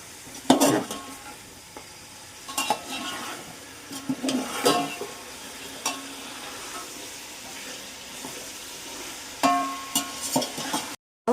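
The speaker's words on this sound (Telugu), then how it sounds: "చికెన్ దీంట్లో వేసాం కదా, ఇలా కలుపుకోవాలి సరే" Chicken pieces being stirred in hot oil for dum biryani, with intermittent scrapes and clatters of a spoon against the pot over a soft steady sizzle.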